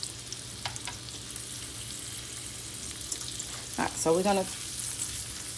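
Minced garlic and seafood fry in a pan on medium-high heat, giving a soft, steady sizzle close by as a voice briefly starts talking over it.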